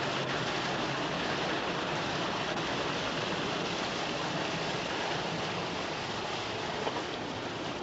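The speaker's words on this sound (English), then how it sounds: "The water's running way too hard today." A creek running hard and fast gives a steady, loud broadband rush of water that fills the whole stretch without letup, close by, with no voices.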